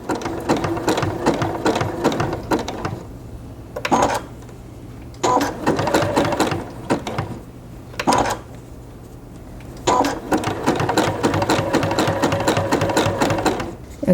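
A sewing machine sews piping rope into a basket, running in several loud bursts of steady stitching separated by short pauses and handling sounds.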